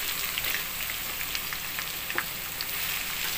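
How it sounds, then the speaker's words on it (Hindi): Finely chopped onions sizzle steadily in hot oil with fried mustard-seed masala, a dense continuous crackle with scattered sharp pops, close and alone over a slow flame for an egg masala curry. "इनमें मैंने बारीक कटी हुई प्याज डाल देंगे।"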